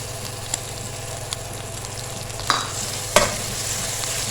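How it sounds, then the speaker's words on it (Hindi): Tomatoes fry with ginger and garlic in a pan, giving a steady soft sizzle, with a few sharp clicks and scrapes as a spoon stirs the mix. "2 से 3 मिनट हम इसको भूनेंगे ताकि हमारे टमाटर सॉफ्ट हो जाएं"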